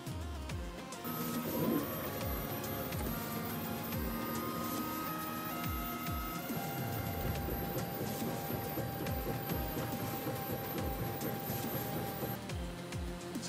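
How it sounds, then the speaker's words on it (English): A 3D printer prints parts of a Batman helmet, its stepper motors whirring steadily with rhythmic pulses and tonal motor whines throughout, close and continuous with no talking. "the parts are sent to the printer to be printed off"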